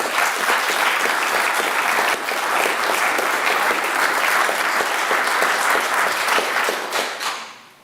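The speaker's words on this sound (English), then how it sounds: "Applause is good." A large audience applauds steadily and loudly for several seconds, the clapping fading out at the end.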